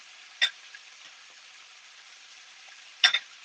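Meat for pepper steak searing in a pan over medium-high heat: a steady, quiet, high sizzle throughout, broken by two sharp spattering crackles, one near the start and one near the end.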